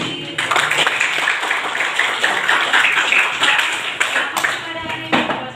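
Classroom of students clapping for a classmate, a short, fairly loud burst of brisk hand claps lasting about five seconds with some voices mixed in.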